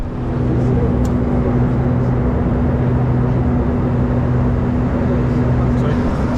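Steady, loud cabin engine roar of a jet aircraft in flight, with a constant low hum throughout, no break in the drone.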